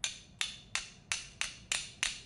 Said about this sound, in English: something heavy at an angle, like a hammer, but you don't want to hit it straight on